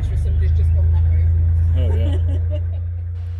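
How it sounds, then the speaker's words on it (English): A low, steady three-cylinder Vetus diesel engine on a canal boat chugs throughout with a rhythmic throb, while a voice talks faintly over it. "My engine's a three-cylinder Vitus."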